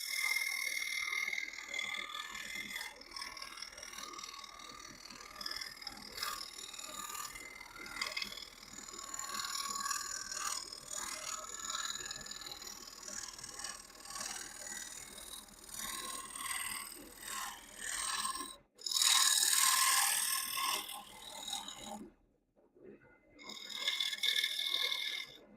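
A wood lathe spinning a live edge bowl at 1100 RPM while a tool takes a light skimming cut, giving a rough, intermittent scraping hiss that swells and fades, with a brief louder burst and a sudden stop near the end.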